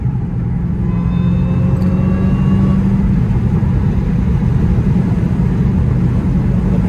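A Dodge Challenger Hellcat accelerating hard from a roll, its engine a loud, steady, deep roar with a rising whine, heard from inside the car and continuous throughout.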